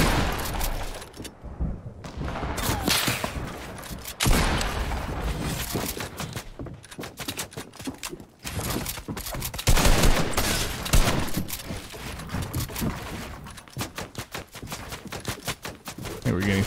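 Dense bursts of gunfire crackle almost without pause in a Fortnite Battle Royale match, rapid loud volleys and single cracks layered over game noise, with people talking faintly underneath.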